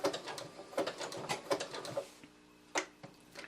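A sewing machine stitches an applique quilt block in close, quick bursts of mechanical chatter, then pauses with a few soft clicks before a last brief run, with no one speaking.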